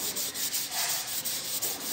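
White primer on a wood-plastic composite edge is sanded by hand in quick, regular back-and-forth strokes, producing a close, steady scratchy rasp with no speech.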